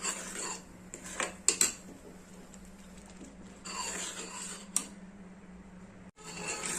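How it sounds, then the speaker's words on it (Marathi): Jaggery filling for puran poli being mixed in a pot, with clinks and scrapes of a spoon against the metal rim coming in scattered bursts over a low steady hum, close and fairly quiet. "गूळ टाकलेला आहे आणि आता छान मिक्स करायचं"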